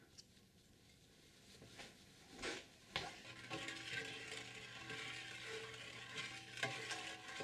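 Chopped jalapeños going into a pot of vinegar-based candied jalapeño syrup with mustard seed, turmeric and cayenne, a few stirring knocks then a steady soft bubbling sizzle at moderate level.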